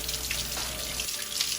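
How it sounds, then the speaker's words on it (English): Tap water runs steadily over hands being wetted before pressing chocolate chip butter cake dough into a pan, a close, continuous hiss-like splash lasting under two seconds. "So I'm going to go ahead and wet my hands with water,"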